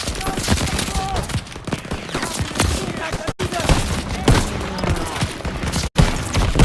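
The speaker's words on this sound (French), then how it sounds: "Ils ont besoin de tirs de couverture. Tir de suppression." Rapid bursts of automatic gunfire and explosions rattle continuously in the World War II video game Call of Duty: WWII, with shouted French voices mixed into the chaotic battle noise.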